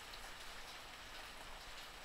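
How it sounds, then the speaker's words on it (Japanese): Steady, soft rain falls at night in an escape adventure game set around a witch's mansion, a continuous even hiss of drops with nothing else heard. "しとしとと降りしきる雨、雨音"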